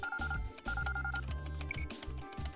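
An in-game telephone rings in Trails of Cold Steel, a repeating electronic ring over a steady game music bed, with two distinct ring bursts standing loud and near.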